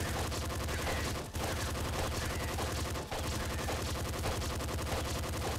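Rapid SMG gunfire in the video game Nuclear Throne, a continuous dense stream of shots at steady volume with two brief gaps, no talk over it.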